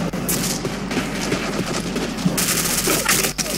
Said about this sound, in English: Someone just shooting at me from behind.